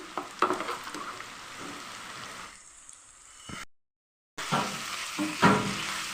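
Ginger garlic paste frying with softened onions in a pan for country chicken curry, a steady crackling sizzle with stirring scrapes, a brief silent gap midway, then sizzling resumes louder.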